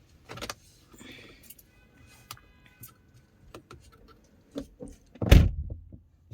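Rear car door fitted with a child lock being unlatched and opened, heard as soft clicks and handle rattles followed by a loud, close thunk of the door releasing, with quiet gaps in between.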